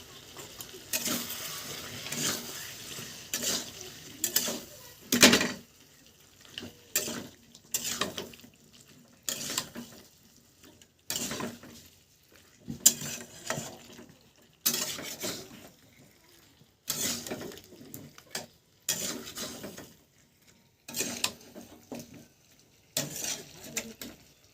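Chicken curry meat being stirred in a covered pot during Bengali home cooking, heard as short scraping, rasping strokes of a utensil against the pot in irregular bursts separated by quiet pauses.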